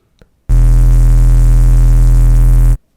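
An Ableton synth bass patch processed with an erosion effect holds one loud, sustained buzzing note for about two seconds, with a thick low end and gritty upper harmonics, then cuts off cleanly.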